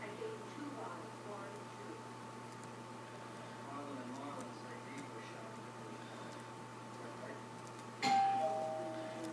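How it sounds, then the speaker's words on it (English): A doorbell rings once near the end, a sudden clear chime over quiet background noise. "The doorbell."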